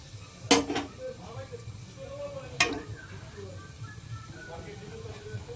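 Chopped onion tipped into a pot of hot spices for mutton kosha, two sharp metallic clanks of a utensil on the pot followed by a soft low sizzle, while a person talks throughout.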